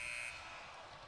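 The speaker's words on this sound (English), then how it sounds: "Rozier's 3 is off at the buzzer" A basketball game buzzer sounds a short, steady electronic tone that cuts off abruptly at the end of a Washington Wizards–Charlotte Hornets quarter, faint and distant over arena murmur.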